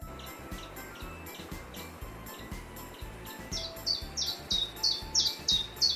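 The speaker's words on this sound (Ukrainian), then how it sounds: "це співають пташки" Birds chirp and trill in quick repeated phrases, growing louder and brighter in the second half over a low, rhythmic background pulse.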